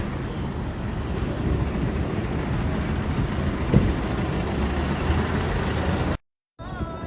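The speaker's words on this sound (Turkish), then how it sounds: "Geldim tramvay istasyonuna tramvayı bekliyorum." A steady low rumble of traffic and vehicles at a tram station, with a broad continuous hum and a brief cutoff near the end.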